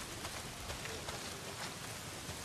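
Heavy rain pouring down in the video game Days Gone, a steady hiss of falling water covering the whole stretch, quiet and even with no talk.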